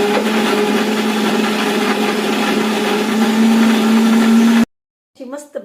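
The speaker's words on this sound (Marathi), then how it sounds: "असं मिक्सरवर सगळं बारीक करून घ्यायचं." A mixer grinder whirs loudly and steadily while grinding raw karonda chutney, holding an even motor drone for several seconds before cutting off abruptly, after which a voice briefly speaks.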